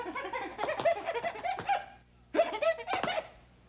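A voice imitates a monkey cry in two bursts of rapid, high, chattering hoots with a short pause between them, fairly quiet and close.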